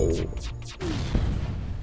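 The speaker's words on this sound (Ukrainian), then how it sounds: "Чекаємо, поки заряджається наша зброя, і вони стріляють теж" Enemy ship weapons firing in FTL: Faster Than Light, heard as several quick whooshing shots in a row followed by a low thud, close and fairly quiet, with no talk.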